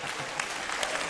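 Applause from a comedy show audience in Abidjan, a dense steady patter of many hands clapping throughout, fairly distant and even in loudness.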